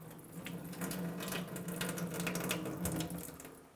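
Tap water runs steadily into a sink to rinse out a water tester, a close, continuous splashing flow with small surges throughout.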